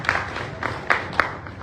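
A small audience at a civic ministry event claps sparsely, a few scattered, faint hand claps spaced irregularly over a soft room murmur.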